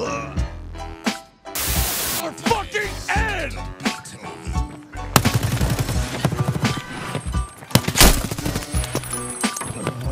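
Video game gunfire from a first-person shooter, sharp repeated shots and bursts mixed with loud game effects and music, with chaotic layered sounds throughout.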